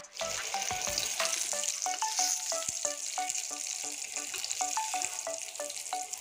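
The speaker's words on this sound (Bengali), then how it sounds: "এবার মাছটা লাল করে ভেজে নেব।" Rohu fish pieces frying in oil, a continuous close sizzle and hiss with a quick run of sharp clicking ticks repeating across the pan; no talking.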